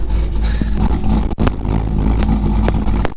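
A Corvette C6 ZR1X's engine runs loud and close in a steady throaty rumble, with a brief dip and blip of revs partway through before settling back to a strong idle.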